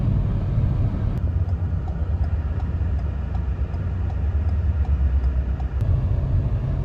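Car driving through the streets of Nogales, Mexico, with a steady low engine and road rumble from inside the cabin and a couple of faint clicks, no speech.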